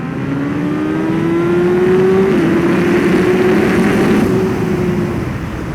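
A Triumph Street Triple or Yamaha FZ1 motorcycle pulls hard at full throttle down a drag strip in cold weather, its loud engine note rising steadily in pitch, with one brief shift, before easing off at the end.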